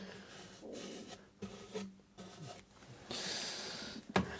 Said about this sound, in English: Just give them a little rub over the sandpaper and they'll be fine.